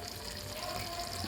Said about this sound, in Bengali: এইভাবে এবারে আমি এতে জল দিয়ে দেব। আমি গরম জল করে রেখেছি।